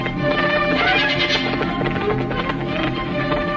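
A horse whinnies over a steady, dense din of hooves and movement, loud and continuous throughout.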